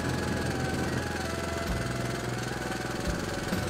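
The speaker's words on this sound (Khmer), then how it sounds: "សម្លេងម៉ាស៊ីនម៉ូតូដូចជាមិនសូវស្រួលទេ" Motorbike engine running rough, a steady low drone with uneven knocking and a couple of brief dips, close and alone without talk.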